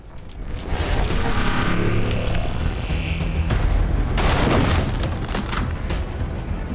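A loud, sustained burst of weapon fire and booming impacts during an XCOM 2 battle against ADVENT forces, close and continuous with a second swell midway.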